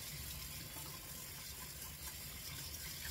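Tap water runs steadily into a sink while vegetables are washed, a faint, even splashing hiss with no talking.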